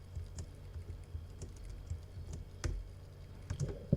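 Keystrokes on a computer keyboard while writing code, soft scattered clicks at an irregular pace with quiet gaps, fairly faint against a low background hum.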